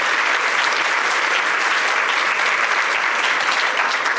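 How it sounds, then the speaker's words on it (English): A seated audience at a civil discourse talk event breaks into steady applause, a dense, even wash of many hands clapping together, loud and sustained throughout with no voices over it. "So can we have a round of applause for all of those people who make this happen?"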